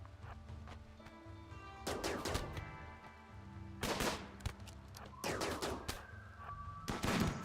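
Assault rifle bursts from RimWorld colonists: several rapid clusters of sharp shots, in groups about a second apart with quieter gaps of tonal game ambience between them, sounding moderately distant and clipped.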